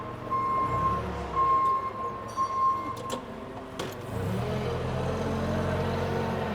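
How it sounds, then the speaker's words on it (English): Reversing alarm of a Yale 4,000 lb propane forklift, a series of steady high beeps for about three seconds over a low engine idle, followed by faint clinks and the engine note changing. "There's your backup alarm."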